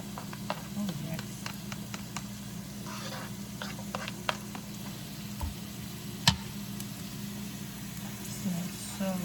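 Peppers and onions caramelize in a pan for a breakfast omelette, giving a faint, steady sizzle broken by scattered light clicks and taps of stirring.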